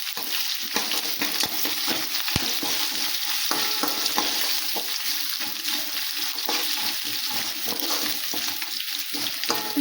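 Green chillies and fresh ginger sizzle in a hot oiled pan for mango chitranna, a continuous crackling fry broken by the scrape and clatter of stirring, close and without talk.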